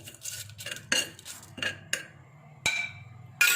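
A spoon stirs bay leaf, cinnamon and cardamom in a metal pot, giving a run of crisp clinks and scrapes against the sides at an uneven rhythm, close and fairly clear with no talk over it.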